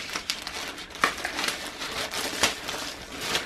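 Foil seed packets crinkle and rustle as they are pushed into a plastic Ziploc bag, giving a continuous close crackling with a few sharper crumpling bursts.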